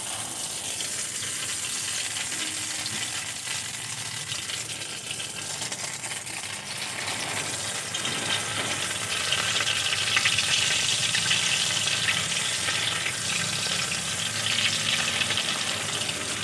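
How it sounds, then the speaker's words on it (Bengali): Stuffed pointed gourds frying in mustard oil give off a steady, dense sizzle that swells louder about halfway through and holds, with no voices. "এই পটলের পুর ভরা পটলগুলো কিন্তু সর্ষের তেল দিয়ে ভাজতে হবে"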